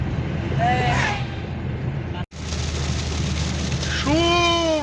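Steady rain falling outdoors during a rainy outing with a car and a motorbike, a dense continuous patter throughout, with faint voices and bird-like chirps under it and a brief dropout midway.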